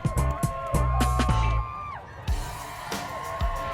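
A crowd cheers and whoops at a stage performance at the 22nd Philippine International Hot Air Balloon Fiesta, with bursts of shouting over loud music.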